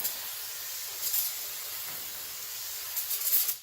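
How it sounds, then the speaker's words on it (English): Brake cleaner sprays from an aerosol can onto the rear brake parts of a 2000–2004 Ford F250 Super Duty 4x4 in a steady, close hiss that lasts throughout, with a few louder bursts along the way and no talking. "I've got a few cans of brake cleaners that have been opened"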